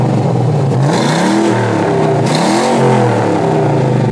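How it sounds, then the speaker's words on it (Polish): A police car with a near-stock, lightly modified exhaust and an added second exhaust system revs loudly and close, the engine note swelling and falling in repeated throttle blips. "Więc zaczniemy od praktycznie fabrycznego wydechu z delikatnymi modyfikacjami."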